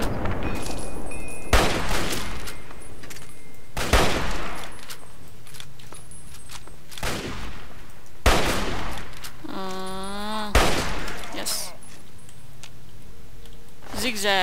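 Gunfire in the video game Fallout 3 comes as loud, sharp bursts every couple of seconds, with a warbling whine and faint ticking between the shots.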